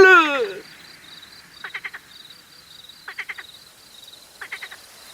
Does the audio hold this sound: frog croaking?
yes